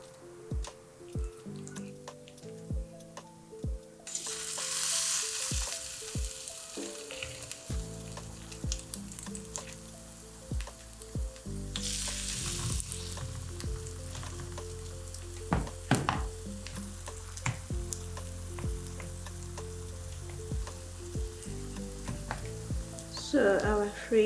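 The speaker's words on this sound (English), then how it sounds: "we're going to fry on low heat until they are done" Baby marrow and carrot fritters fry gently in a pan over low heat, with a soft continuous sizzle, scattered pops and drips, and occasional clinks from handling.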